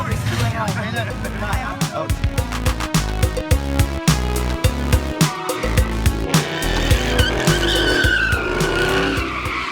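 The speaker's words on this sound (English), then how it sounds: "My homeboy's out there doing donuts in his nice ass car" A car doing donuts at a Los Angeles street takeover, tires skidding and squealing continuously over a loud revving engine, with a crowd's babble and shouts throughout.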